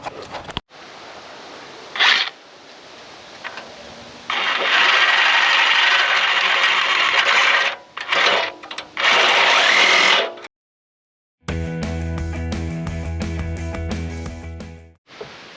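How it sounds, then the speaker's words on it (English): A power saw fitted with a metal-cutting blade cuts through old worn bolts, with loud harsh grinding bursts of varying length, short pauses, and a final sustained, buzzy cut. "So next step, cut them off, put a saw blade on here that's made for metal,"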